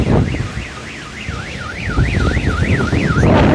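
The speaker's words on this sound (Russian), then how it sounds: "Ну вот все, срабатывает сигнализации." A car alarm in a city street during a violent dust storm with gale-force wind wails in a steady rising-and-falling siren cycle, loud and continuous over heavy roaring wind noise.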